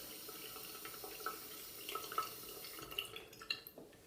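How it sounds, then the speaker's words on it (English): Running tap water splashing over bathroom scales in a bathroom, a soft steady wash with a few scattered drips and splashes toward the end, fairly quiet and heard alone. "turn the tap on and simply splash some water over the scales like that"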